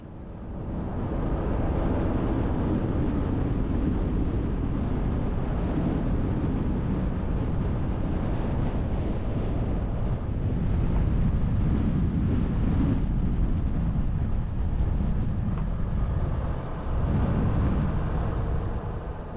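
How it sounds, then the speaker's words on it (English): Strong wind buffets the van on a desert road trip toward Badwater, a steady loud roaring rumble with gusty low-end surges throughout and no talking. "That wind just picked up here in the last few minutes."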